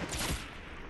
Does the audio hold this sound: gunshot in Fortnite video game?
yes